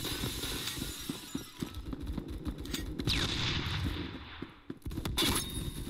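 Video game combat with rapid, crackling gunfire bursts and grenade blasts layered together, popping in quick irregular volleys at moderate, somewhat distant loudness with a brief whooshing sweep in the middle.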